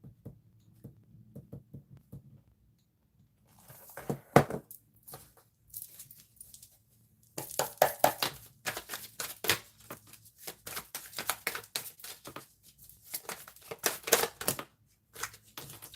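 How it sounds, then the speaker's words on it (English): Cards are riffled and shuffled up close in bursts of crisp flutters and papery slaps, with short quiet pauses between rounds. "Let me shuffle this deck a bit better."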